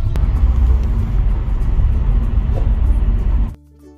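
Inside a car driving on a highway, a steady low rumble of road and engine noise fills the cabin, then cuts off abruptly near the end.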